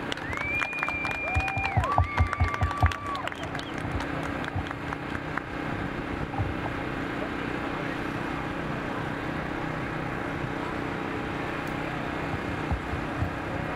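A crowd at an Asian cultural festival awards ceremony applauds steadily, with clapping and scattered cheering filling the space throughout, and some whistles near the start.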